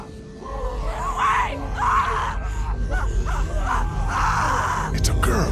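A girl screaming in The Walking Dead video game: strained, wailing cries that rise and fall over several seconds, heard fairly close and mixed with other vocal sounds.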